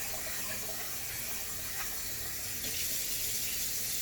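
Tap water runs steadily into a sink while rice is being washed for a kimchi stew meal, a constant close splashing stream with no talk.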